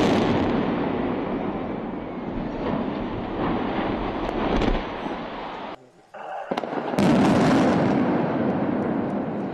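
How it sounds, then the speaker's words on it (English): Bridge demolished with about 150 kg of explosives: loud, sustained rumbling roar of the blast and collapse filling the whole span, a brief dip near the end, then a renewed burst of crashing debris and crowd noise. "Approximately 150 kilograms of explosives were used to demolish the bridge"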